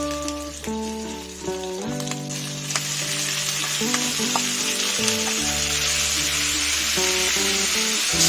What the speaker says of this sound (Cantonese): 爆香啲薑同埋薑葱